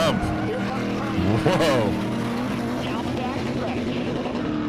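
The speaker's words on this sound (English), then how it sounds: "The rev limiter on that Talon is insane." A Talon race car at Seekonk screams at high revs, its engine bouncing off the rev limiter in a loud, rapid stutter alongside other circuit cars, with a commentator's voice talking over the roar.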